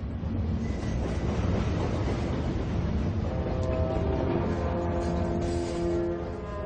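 Freight train rolling steadily along the rails, a continuous dense rumble with clattering wheels and faint tonal squeals, close and loud with no voices.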